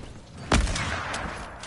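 A single sharp sniper gunshot bursts out in Fortnite, followed by a short rumbling tail and faint later thumps, like game gunfire.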